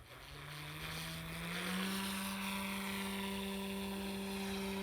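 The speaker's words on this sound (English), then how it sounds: "This is definitely not an indoor heli." An RC helicopter flies outdoors in windy weather under throttle, its rotor and motor giving a steady, close, continuous whine that climbs in pitch and volume before holding level, with no talking.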